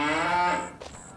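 Highland cattle in Farming Simulator 25 give one loud, drawn-out moo with a rich harmonic tone, tailing off into a brief softer grunt, close by and without talk.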